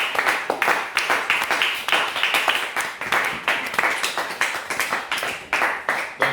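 A church congregation claps steadily and fast for the Lord, the dense rhythmic applause filling the room at full volume without pause.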